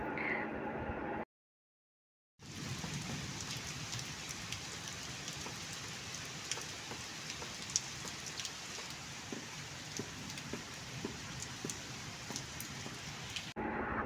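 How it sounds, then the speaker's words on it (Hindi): Steady morning rain pours down continuously, a dense even hiss with scattered drops, broken by a brief silent gap near the start. "क्योंकि सुबह से ही बारिश हो रही थी और बहुत ज़बरदस्त मौसम हो गया था"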